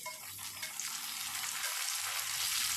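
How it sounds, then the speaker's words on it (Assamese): Chopped tomatoes go into a pan of nearly cooked frying potatoes, and a loud, close, steady sizzle and crackle of hot oil carries on throughout with a brief shift partway through. "এতিয়া তাত কাটি ৰখা বিলাহীখিনি দি দিছোঁ।"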